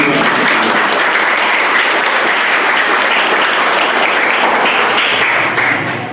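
Audience at a school's academic year-closing conference bursts into loud, sustained applause, dense clapping from many hands filling the room steadily for about six seconds before tapering slightly at the end.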